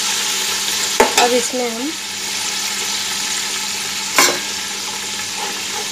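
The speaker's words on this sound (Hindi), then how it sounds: "थोड़ी देर ये चिकन इसी तेल में और प्याज के साथ फ्राई हो जाएगा।" Chicken frying with onions in oil for a biryani, a continuous close sizzle with a couple of sharp clatters of stirring, while a voice speaks briefly near the start.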